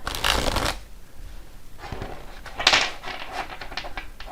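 Oracle cards are shuffled by hand in two quick bursts of riffling and slapping, close and crisp, the second burst trailing into a few lighter card taps.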